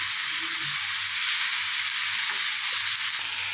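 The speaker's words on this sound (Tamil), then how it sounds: "கொஞ்சமாக வெட்டி வச்சுருக்க கோஸ் சேர்த்துக்கிறேன். இதுவும் கொஞ்சம் வதங்கட்டும்." Chopped cabbage sautés in a pan with a steady, close sizzle and a few soft stirring knocks, heard alone without any voices.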